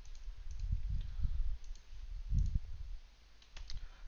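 A computer mouse gives several light clicks in small clusters, close and fairly quiet over a faint low hum.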